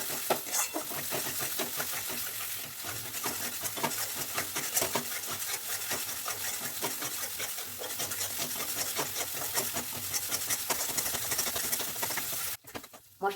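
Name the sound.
frying ginger, garlic, cashew and fried onion paste masala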